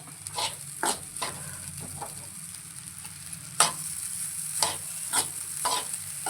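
Egg fried rice seasoned with coriander powder and salt is tossed in a pan over a high flame, giving a steady sizzle broken by repeated sharp scraping and clanking strokes of the spatula, close and without talk.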